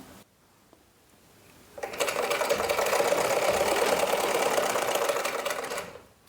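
A sewing machine stitches a folded hem on a kitchen apron. After a quiet start, a steady, fast mechanical whir runs for about four seconds and then winds down.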